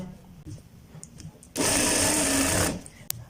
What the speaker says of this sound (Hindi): अब हमने अपनी ये जो सिलाई है हमने स्टार्ट करनी है।